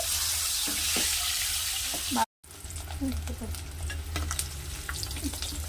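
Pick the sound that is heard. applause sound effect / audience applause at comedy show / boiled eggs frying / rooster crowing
boiled eggs frying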